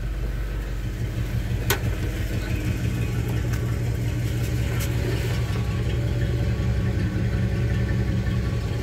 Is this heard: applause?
no